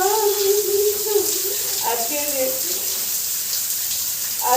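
Water runs steadily from a tap to fill a bath, a continuous close hiss and gush, while someone talks over it.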